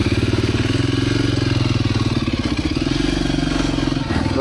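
A motorcycle engine runs steadily at close range with a pulsing low rumble, at a roadside stop in Congo, Africa.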